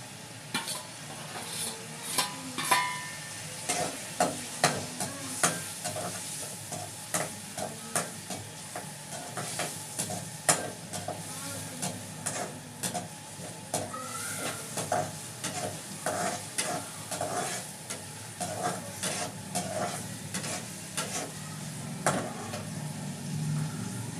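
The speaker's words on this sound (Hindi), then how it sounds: "मैंने तड़का लगाना शुरू कर दिया है" Onions sizzle in a hot tadka while a spoon stirs and scrapes the pan in frequent irregular strokes, a steady frying hiss running close and clear underneath with no talking.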